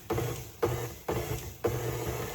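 Electric mixer pulsed through apple blondie cookie batter, four short repeated whirring bursts about half a second apart, close up with no voices.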